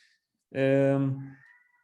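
A pet cat gives a single clear, close meow, drawn out and fading at the end.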